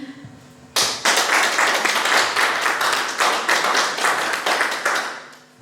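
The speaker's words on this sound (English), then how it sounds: "let's give a round of applause to panelists for the whole discussion." Audience applause for a panel discussion at an event, a dense burst of clapping that starts abruptly, holds steady at full strength for several seconds, then thins out near the end.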